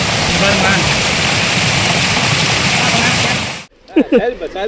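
A mountain waterfall pours with a loud, continuous rushing roar, then cuts off abruptly, leaving quieter sounds with a voice speaking.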